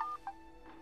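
A telephone gives a short, faint electronic ring for an incoming call, a few quick tones in a quiet indoor room with no voices.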